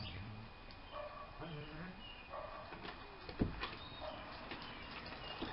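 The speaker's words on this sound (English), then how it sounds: "Dogs are going crazy here today," Dogs bark in the background while someone talks nearby: faint, scattered yips and barks come from some distance, with one sharper thump or bark partway through, all under quiet speech.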